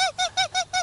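A person imitates a kestrel call with five short, shrill, evenly spaced squealing notes, each bending down slightly in pitch, close and clear with no other sound.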